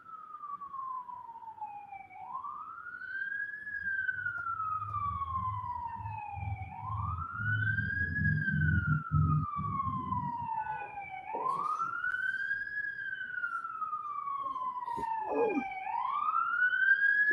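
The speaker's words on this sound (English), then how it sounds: "Whoa, sirens." A fire engine siren wails, rising and falling in long, repeating sweeps, fairly close, over traffic rumble and a few brief clanks.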